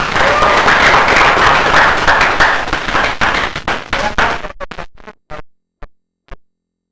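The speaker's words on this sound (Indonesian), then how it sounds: "Kita beri aplaus untuk kelompok 1." Secondary school class applauding a student group after its presentation: loud dense clapping for about four seconds, then thinning into a few scattered final claps with silence between them.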